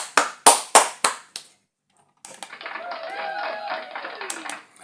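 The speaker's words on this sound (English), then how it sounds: "let's just get around and just have a round of applause for" Five loud, sharp hand claps for Rele Mofokeng ring out in quick succession, each with a short decay. They stop abruptly, followed by a silent gap and then an unrelated sustained tonal sound.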